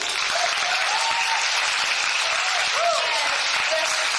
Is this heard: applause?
yes